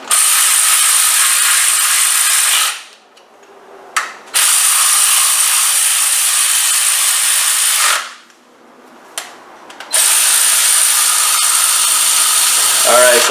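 A power ratchet runs down the timing cover bolts on a 2007 Range Rover 4.2 supercharged engine during a head gasket job, loud close buzzing runs of a few seconds each broken by brief quiet pauses.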